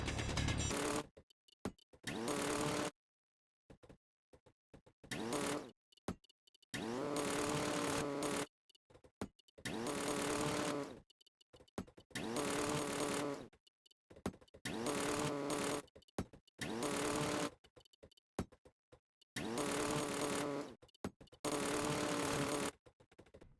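Hand drill grinding through rock in the Space Engineers video game, a loud mechanical whir in repeated bursts of a second or two separated by short silences, with no talking.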